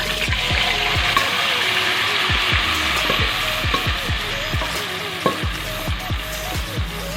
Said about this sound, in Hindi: इसी में हम अपना ये वाला कीमा डाल देंगे।